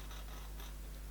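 Scissors cut through stencil material while making an airbrush stencil, soft close scraping snips over a steady low hum, with no talking.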